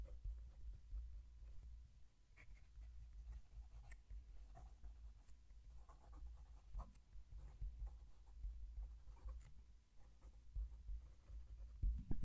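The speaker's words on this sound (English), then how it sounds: "I'm going to move the mic down to the page so you can hear the pen write." A Brooks Blanks fountain pen scratches softly across paper, recorded close up, giving faint intermittent scritching strokes over a low background hum.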